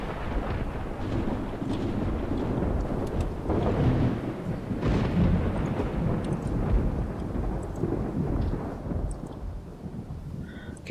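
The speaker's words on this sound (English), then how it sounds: "Thunder, you're a pain in the ass." Deep rolling thunder rumbles on for several seconds during a rainstorm in the zombie survival game Project Zomboid, loud and sustained with a hiss of rain beneath it and no talking.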